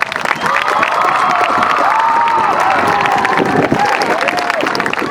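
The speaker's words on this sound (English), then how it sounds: "Class, would you please give your teachers and parents a round of applause?" A large high school graduation crowd in an outdoor or arena setting claps, cheers and shouts loudly, with whoops and whistles rising over continuous applause.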